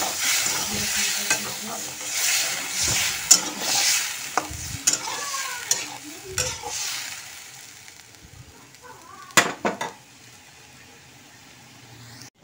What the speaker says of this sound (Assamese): এতিয়া ধুনীয়াকৈ কচাই দিওঁ আৰু অকণমান পানী দি দিম